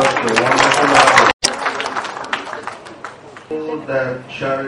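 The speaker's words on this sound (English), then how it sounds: "Another round of applause for such a wonderful artist." An audience claps for an artist at a Dr. Nnamdi Azikiwe Day 2012 celebration. A burst of crowd applause opens, then thins out under a man's amplified speech.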